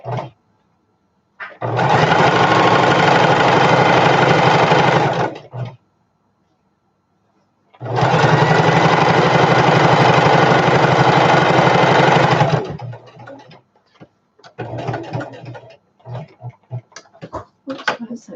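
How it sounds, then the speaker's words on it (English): A sewing machine stitches down the side of a fabric storage bin in two long steady bursts of fast, loud whirring, separated by a pause and followed by short stop-start runs. "So sew down on the side."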